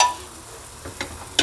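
Fried eggs sizzle in oil in a pan, with extra oil spooned over the top, giving soft frying with a few brief spatters and stirring clicks.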